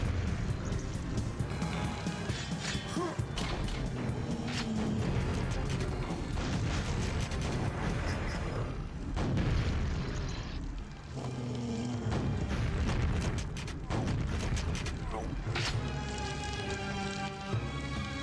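Rocket blasts in Quake's Dissolution of Eternity mission pack, layered into a dense, loud, continuous barrage of booming impacts and gunfire, with a few brief dips, and no clear voice over it.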